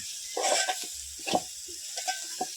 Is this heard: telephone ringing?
no